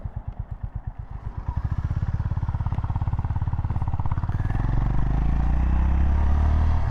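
A Honda GB350S single-cylinder motorcycle engine thumps in slow, distinct pulses, then the beat quickens into a steady, close throb as the bike gets underway.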